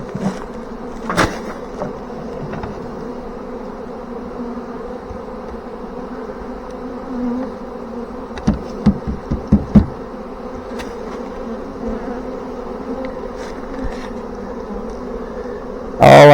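Loud, continuous buzzing of a huge honey bee swarm hanging on a swarm trap, close up, with scattered knocks and taps over the steady hum.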